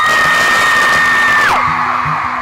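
A concert crowd screams and cheers loudly and continuously, a dense near wall of voices with a high sustained shriek standing out before it drops away.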